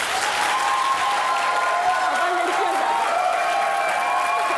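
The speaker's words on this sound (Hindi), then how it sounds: "आप लोग ऑडियंस भाई आप बताइए, जिसका ख्याल है ये राउंड अफान वहीद जीते वो तालियां बजाएं" A studio audience applauds steadily throughout at a talk-show interview with Affan Waheed and Sidra Niazi, a dense, even wash of clapping with faint crowd murmur and no break.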